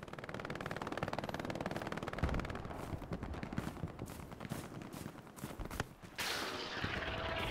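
Rapid bursts of gunfire in a video game, a rattling string of sharp shots followed by scattered single cracks, loud and close, with no voices heard.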